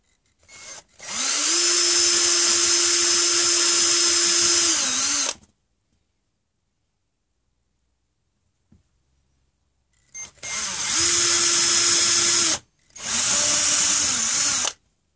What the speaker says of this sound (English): I'm going to drill some holes for the doll to go into.